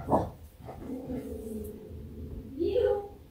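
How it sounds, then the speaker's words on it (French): Small dogs barking and whining close by, a sharp yap at the start followed by whimpering and more short yips near the end, with a person talking over them. "Alors là, on a les chiens."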